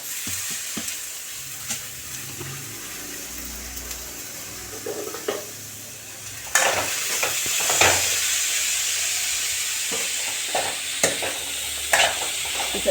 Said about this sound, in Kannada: ಕಾಳು ಹಾಕ್ಬಿಟ್ಟು ಫ್ರೈ ಮಾಡೋಣ